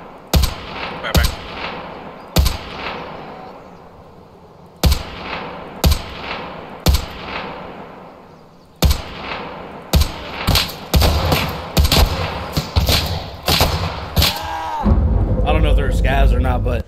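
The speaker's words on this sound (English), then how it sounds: "so I started shooting at them" Gunfire in Escape from Tarkov: sharp, close single shots spaced a second or so apart, then quicker bursts of rapid fire toward the end, with some talking mixed in.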